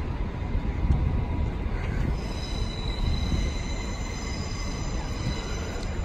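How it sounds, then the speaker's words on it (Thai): Train departing a station in Cologne, rumbling low wheel noise with thin high squealing tones emerging partway, steady and moderately loud, no voices. "รถไฟออกแล้วรถไฟขบวนที่1ออกไปแล้วนะคะ"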